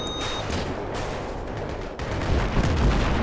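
Heavy booming tank cannon gunfire in the video game Battlefield 3, loud, with a big blast near the end over a rumbling background.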